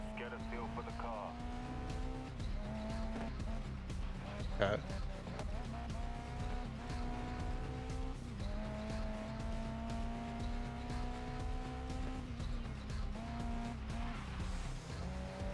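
Race car engine in the Grid Legends video game, droning steadily with rising and falling revs through gear changes, plus brief tire squeal, under a voice speaking briefly.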